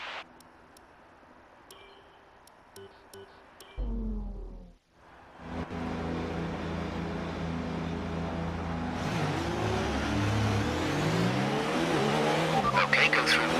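An F1 car engine in the F1 2019 video game, quiet at first, then revving up through the gears on the grid, a loud rising whine that climbs in stepped pitch sweeps, with a voice talking over it.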